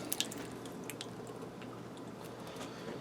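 Twenty-eight ounces of crushed tomato slides wetly from a can into a bowl, with a few soft drips and squishy plops at the start and then a faint, steady liquid gurgle throughout.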